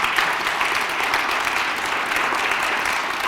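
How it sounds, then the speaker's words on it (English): An audience at a lecture gives a steady, dense round of applause that holds evenly for several seconds with no voices standing out. "Let's give them a big round of applause."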